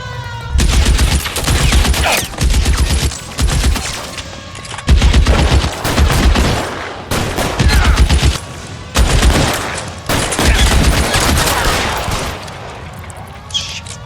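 Gunfire in the video game L.A. Noire, loud repeated bursts of rapid shots in several volleys of one to two seconds with short pauses between them, all at close range.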